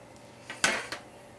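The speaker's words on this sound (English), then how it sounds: "So we'll just place the rack right on top and then flip the cakes over." Metal cake pans clatter as freshly baked devil's food cake layers are flipped over onto a cooling rack, giving a couple of brief, close clanks in a quiet kitchen.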